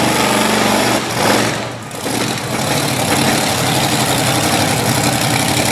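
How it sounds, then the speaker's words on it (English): A monster truck engine with a failing cylinder drones loudly and steadily at a Little Valley, New York event, briefly dipping in level before settling back into a harsh, uneven roar. "It sounds like his cylinder's going away."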